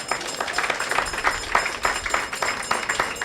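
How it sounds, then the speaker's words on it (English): Audience applause at the opening of the Eastline Bus Terminal, dense steady clapping from a crowd with rhythmic bursts, fairly loud and continuous throughout without speech. "Give him a round of applause."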